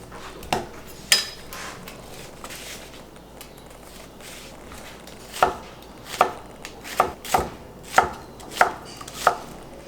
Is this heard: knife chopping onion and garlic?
yes